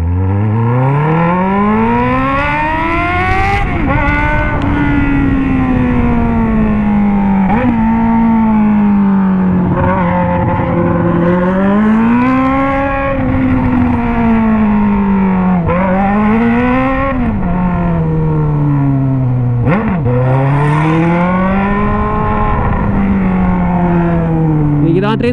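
A Honda Hornet motorcycle engine revving hard as it rides toward a practice track, rising and falling through repeated gear changes and loud, close, continuous throughout, with a voice faintly under the engine noise.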